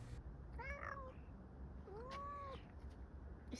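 A cat meows twice, faint and drawn-out, with a gap between the calls against a steady background hiss.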